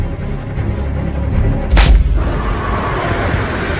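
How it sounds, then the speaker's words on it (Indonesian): A sniper rifle gunshot fired at a target on a high-speed train in an action film, a single sharp, loud blast with a booming tail cutting through a steady dense background of film score and ambience. "Tak disangka tembakan Henry berhasil mengenai target pada bagian leher."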